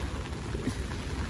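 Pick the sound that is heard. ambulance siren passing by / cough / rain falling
rain falling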